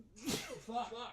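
A single sharp human sneeze bursts out nearby, followed right after by a short muttered voice.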